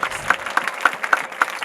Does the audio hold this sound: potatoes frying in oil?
no